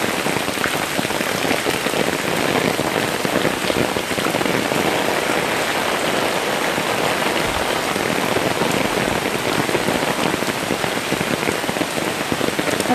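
Heavy rain pours steadily in Boracay, a dense continuous hiss of drops drumming on a hard surface throughout, loud and close with no voices.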